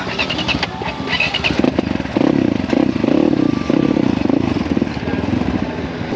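Dirt motorcycle engine labouring up a hill trail, close and loud, with a rough clattering rumble that surges and revs in uneven bursts.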